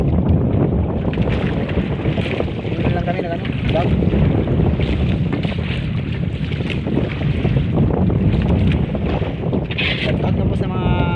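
Strong wind roars and big waves churn around a new bangka boat at sea, a loud, unbroken buffeting with heavy wind noise on the microphone while people talk over it.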